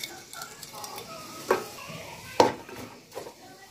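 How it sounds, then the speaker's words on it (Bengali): Whole garam masala of bay leaf, cinnamon and cardamom frying in hot oil for chicken biryani, a soft sizzle with a few sharp stirring clinks near the middle and end, no talk. "তেলের সাথে গরম মশলাটা একটু ভেজে নেব"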